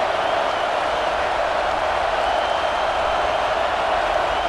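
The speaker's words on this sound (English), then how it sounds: "Crowd trying to help out here on 4th down." A football stadium crowd roars on a 4th-down play, a dense sustained wash of cheering and noise that holds steady throughout without individual voices standing out.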